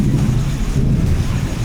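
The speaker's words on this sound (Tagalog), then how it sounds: "lakas ng kidlat" Loud, heavy thunder rumbling during a storm with rain, a deep continuous roll that fills the whole moment, close and powerful with no talking over it.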